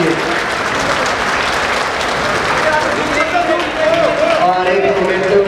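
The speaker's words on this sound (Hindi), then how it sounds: "एक बार जोरदार तालियां वेद प्रकाश टंडन जी के लिए।" Loud, sustained applause from a festival crowd at a Rajasthan cultural festival in Delhi, steady and close throughout with crowd noise mixed in.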